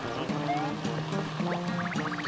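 A waterfall in the Paper Mario Color Splash game rushes steadily beneath bouncy game music and chiming effects, a continuous watery wash throughout.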